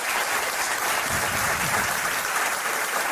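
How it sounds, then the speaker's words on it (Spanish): A studio audience claps for an arriving guest on a talk show, dense sustained applause filling the whole stretch at steady loudness. "Pido un aplauso para él."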